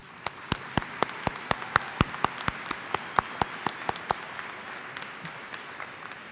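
Commencement audience at Ferris State University applauding ushers and helpers, with a steady run of distinct sharp claps at an even rhythm, fairly close, over a soft background wash of room noise.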